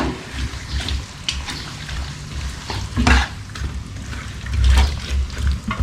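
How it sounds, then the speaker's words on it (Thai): Massaman curry with large chunks of onion being stirred in a pot, giving a steady scraping and bubbling simmer with soft sizzling close by and no voice. "แล้วคนลงไป"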